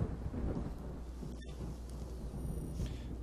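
Low thunder rumbles on continuously ahead of rain, a heavy, fairly faint roll with no voices and only slight swells in strength.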